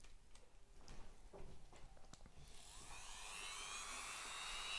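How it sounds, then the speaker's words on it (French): Small grinding wheel working a brass carburettor plug, a steady high whine that builds in the second half, preceded by scattered clicks and short touches of the tool. "Je vais utiliser d'abord cette petite meule."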